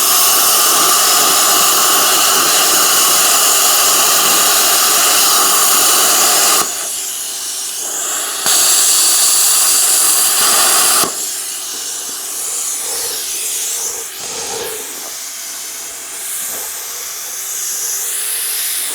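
Arccaptain Cut 55 plasma cutter slicing through metal, a loud, harsh, steady hiss in long bursts that stop and restart, with quieter air-rush gaps between cuts.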